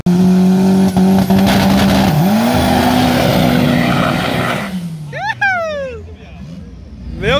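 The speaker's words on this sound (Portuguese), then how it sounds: "Dois carros de rua, viu, rapazes? Dois de rua." Two street cars in a drag race at a strip in Sorocaba roar loudly with a sustained high engine drone that shifts pitch, then fades, followed by sharp chirping squeals.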